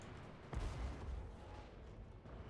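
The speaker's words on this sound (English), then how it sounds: "Cannon!" A single cannon shot in a Warhammer battle with dwarf forces, a sharp boom at about half a second followed by a low rumble over steady background din, no talking.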